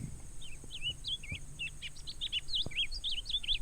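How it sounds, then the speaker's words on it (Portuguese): A coleirinho seedeater sings a series of quick, high, twittering phrases, clear and fairly close, with light background noise. "em 15º lugar da nossa lista temos o passarinho, o coleirinho"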